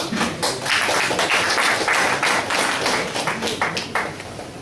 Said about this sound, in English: a big round of applause for all the performing evaluators